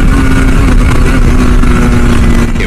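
A Yamaha RX100 two-stroke motorcycle under restoration roars at full throttle, close and loud, holding a steady, unbroken engine drone with no talking.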